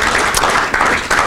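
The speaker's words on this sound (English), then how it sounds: "Please give a round of applause for one of our brand new members." A crowd claps in applause at a chamber of commerce breakfast, a short dense burst of clapping at close range.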